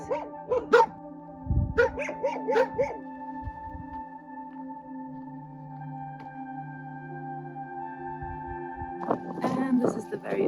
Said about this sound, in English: There's doggies coming to attack me.